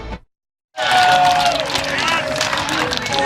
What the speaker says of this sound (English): You can hear the ovation in the crowd, the energy